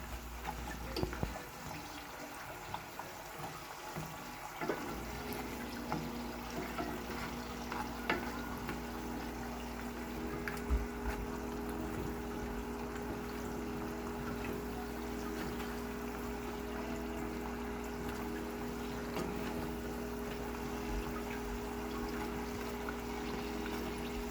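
Dough bakes deep-frying in hot oil, a steady close sizzle and bubbling hiss that runs unbroken throughout, with a low hum underneath.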